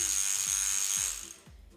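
A Rubbermaid Reveal power scrubber spins its brush close by, a loud steady whirring motor with rhythmic ratcheting clicks, slowing slightly near the end.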